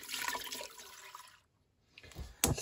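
Water is poured into a pot holding seared beef for a beef soup with meatballs and saffron, a quiet splashing pour that stops briefly, then resumes with another splash.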